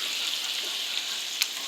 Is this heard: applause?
no